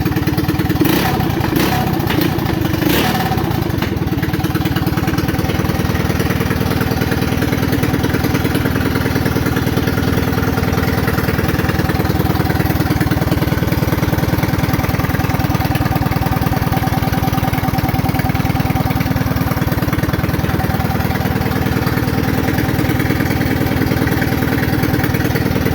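A custom off-road chopper motorcycle engine idles steadily and close, a loud continuous mid-pitched rumble with some clattering bursts in the opening seconds.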